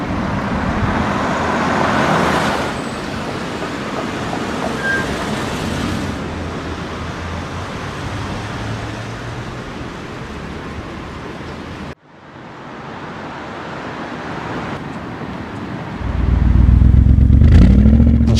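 A Mercedes-Benz G55 AMG rumbles along on the road, a steady engine and road noise throughout with a brief dropout near the middle, then a deep, loud low-end surge at the end as the engine pulls harder.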